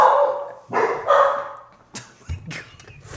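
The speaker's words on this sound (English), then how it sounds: "They just bark at everything." Several dogs barking in a room at Candlekeep, a handful of sharp barks and yips in irregular bursts, fairly close and loud, with no talking over them.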